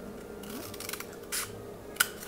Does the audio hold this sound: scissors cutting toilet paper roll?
yes